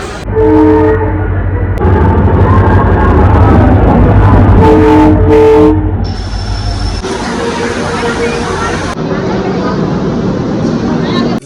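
Indian Railways Howrah–Puri Express standing at Howrah station, with a steady low engine or coach hum, a loud horn or whistle blast early on, and station bustle with people talking throughout.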